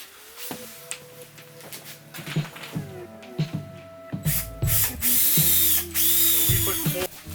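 A power drill drives screws into tiny house interior wall panels that look like barn board, with short whirring bursts, ratcheting clicks and knocks, then longer, louder drilling runs near the end.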